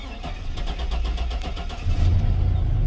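A GMC Sierra pickup truck engine starting from cold in chilly weather, running steadily at close range, with a low rumble that swells and grows louder toward the end as it settles into a running idle.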